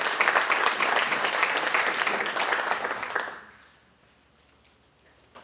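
Conference audience applause for a superintendent's event, full clapping for about three seconds, then fading quickly into near silence.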